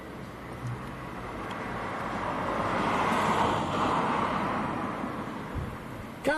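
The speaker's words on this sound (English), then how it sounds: "we've got a Jet2 taxiing out." A Jet2 airliner taxiing at Leeds Bradford Airport in strong, gusty wind gives a steady, moderately distant engine roar that swells toward the middle and eases off, mixed with broadband wind noise.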